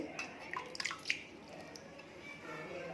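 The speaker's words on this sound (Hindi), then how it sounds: "अब इसे थोड़ा थोड़ा पानी डाल के गूंथेंगे, ज़्यादा पानी नहीं डालना एकदम से" Flour dough with oil is moistened with small splashes of water and kneaded by hand for bedmi poori, giving soft wet squishes and a few drips, close up over a low room hum.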